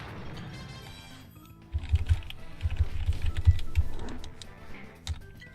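Computer keyboard keys clatter in quick irregular bursts while a player works through Slam Bolt Scrappers, close and fairly loud over faint game audio.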